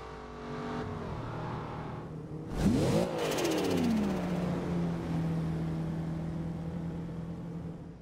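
A 2012 Cadillac Escalade in the Forza Horizon 2 racing game idles steadily, then its engine revs sharply with a rising, falling roar before settling back to a steady hum, loud and alone.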